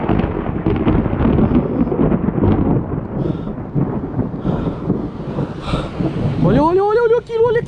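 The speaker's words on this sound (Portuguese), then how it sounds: "Olha o relâmpago, cara." Thunder from a lightning storm rolls loudly and continuously close by, with wind noise and rain mixed in and a voice speaking over it.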